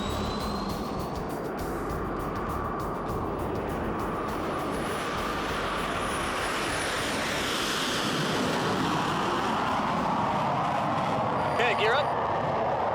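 White Knight carrier aircraft rolling down the runway for takeoff, a steady broadband engine and wind roar holding throughout with radio-style voices talking over it.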